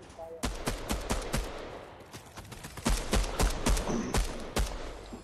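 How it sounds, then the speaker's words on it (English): Fortnite gunfire plays in sharp, irregular shots and short bursts, loud against a background of game noise. "Gunfire."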